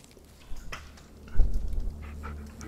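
A dog pants in the Blair Witch horror video game, quick breathy huffs with a brief whimpering swell midway, close and alone.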